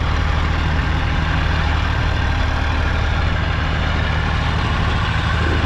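An Eicher tractor engine idles with a steady, low rumbling chug, loud and continuous, with no voices over it.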